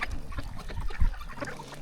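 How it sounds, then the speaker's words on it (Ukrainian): Ducks crowd a riverbank alongside swimming coypu, giving a quick run of short quacks and honking calls that come and go over soft outdoor background noise. "качки все ще голодні"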